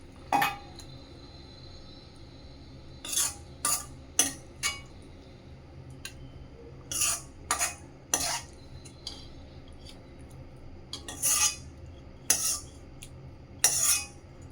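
A metal spoon scrapes and clinks against an iron pan in a series of short, spaced strokes as banana flower curry is scooped into a bowl, each followed by quiet, with no talking.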